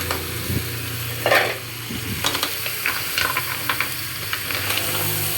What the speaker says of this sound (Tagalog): So, i-mix na po natin yung ating tahong.